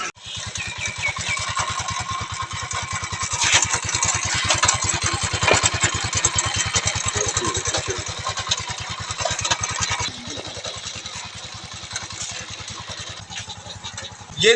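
A motorcycle engine runs in fourth gear at raised revs to spin a homemade battery-charging generator. It drones steadily and loudly, dips slightly in level near the end, then surges again.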